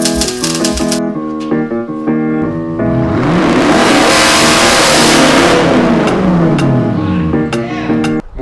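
A 2015 Audi S7 with its 4.0T engine revs loudly and up close, climbing through a long sustained rise and falling back, with sharp throttle blips at the start and end.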